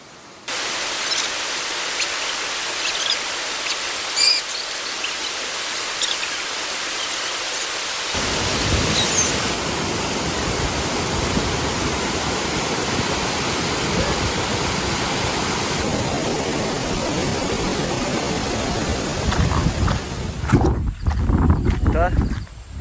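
A countryside waterfall in the Konkan roars as a loud, continuous rush of falling water, steady throughout with brief knocks and handling noise near the end.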